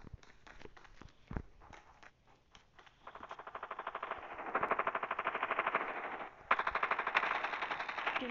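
A deployed sentry gun in the Call of Duty video game fires rapid automatic bursts, a dense mechanical rattle that runs for several seconds, pauses briefly and resumes, with a few scattered single shots and footsteps before it.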